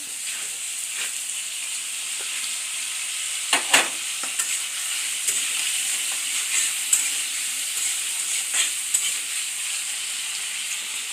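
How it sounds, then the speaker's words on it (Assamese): Meat being cooked in a home kitchen pan, a steady close sizzle and frying hiss running throughout, broken by a few sharper clatters and stirring scrapes. "এতিয়া আমাৰ গৃহিণীজনীয়ে চাওক এয়া মাংস বনাই আছে"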